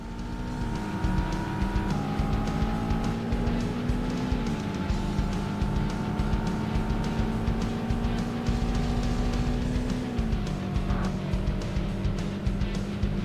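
A car engine drones steadily in the PlayStation racing game Need for Speed, its pitch rising and falling through gear changes for the whole stretch, loud and constant.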